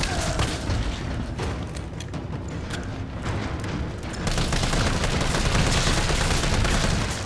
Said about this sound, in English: all you're doing is just shooting zombies